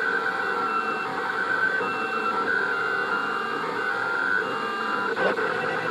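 A Rostock delta 3D printer works through its first print, its stepper motors giving a steady whining hum with shifting tones close by, and a brief click near the end.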